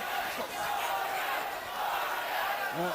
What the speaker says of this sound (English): Vargas supporters behind us chanting for their man.